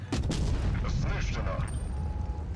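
A loud, dense burst of heavy booms from a T92E1 tank cannon in World of Tanks Blitz, with rumbling low end and a faint tone lingering afterward.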